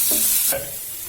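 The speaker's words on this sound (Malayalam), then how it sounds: "നീരുള്ളി നന്നായി ഒന്ന് വഴറ്റിയെടുക്കുക." Short bursts of onion sizzling and stirring in a hot pan, with a scrape about halfway through, close and steady.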